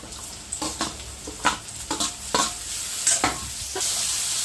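Tomatoes and curry leaves sizzle in a hot pan as a spoon stirs them, with a steady hiss and several scraping stirs and clinks throughout.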